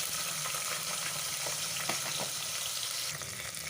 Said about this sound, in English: So as the garlic is frying really well and turning brown